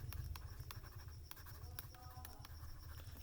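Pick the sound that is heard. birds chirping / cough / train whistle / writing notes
writing notes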